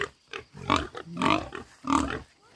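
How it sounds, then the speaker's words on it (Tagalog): Two farm pigs let out of their pen grunt and squeal in short, close, repeated calls separated by brief pauses. "Inilabas na pala na kaagad ni Papa yung dalawa naming baboy."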